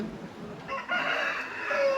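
A Tamil Nadu lineage rooster crows once, starting with a short rise and then holding a long, loud, strained call that stretches to the end.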